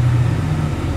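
A Honda Civic B16 engine idles slightly unevenly up close: a steady low hum whose pitch wavers a little throughout, with no talking.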